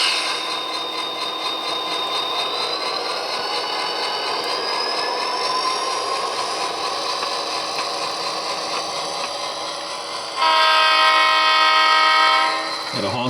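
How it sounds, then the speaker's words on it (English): An SD40-2 locomotive working at Huntington Beach sounds its horn loudly near the end, a strong sustained blast over the steady rumble and rolling noise of the train that fills the whole stretch. "Got a honk for the weirdos under the overpass there"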